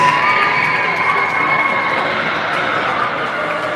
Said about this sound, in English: And the crowd over here are going nuts.